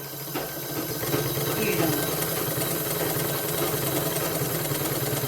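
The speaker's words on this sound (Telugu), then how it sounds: "ఇప్పుడు మనము ఈ చక్రాన్ని తిప్పుతూ కాళ్ళతో తొక్కుతూ ఈ విధంగా కూడా చుట్టుకోవచ్చండి" A treadle Vidya sewing machine winds thread as its wheel is turned by foot, giving a steady, close mechanical whirring and ratcheting clatter that runs throughout.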